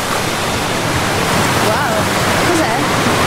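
Steady rushing water at a hydroelectric dam on a river in The Last of Us, a broad continuous roar filling the whole stretch at even loudness, with faint higher tones drifting over it.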